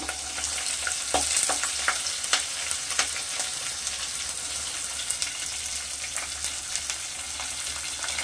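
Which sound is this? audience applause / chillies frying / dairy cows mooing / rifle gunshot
chillies frying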